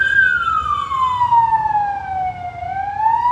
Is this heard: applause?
no